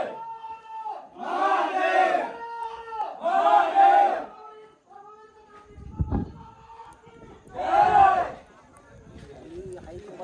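Crowd of trekkers gathered at Torna fort, with loud bursts of massed voices shouting and chanting in several waves between quieter stretches of chatter.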